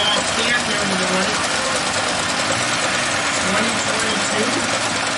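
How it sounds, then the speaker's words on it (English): A small handmade Avery tractor's engine runs at a threshers show, a steady, continuous chugging drone that stays at an even level throughout, with the busy outdoor crowd noise of the show mixed in. "here comes a little tractor driven by Carlos Shaw"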